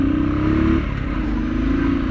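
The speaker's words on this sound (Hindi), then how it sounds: "बाइक को थोड़ा भगाया जाए." A Royal Enfield Thunderbird 350X motorcycle accelerates nearby, its low, steady engine drone shifting pitch partway through with no talking.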